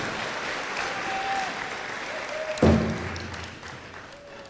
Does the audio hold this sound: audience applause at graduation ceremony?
yes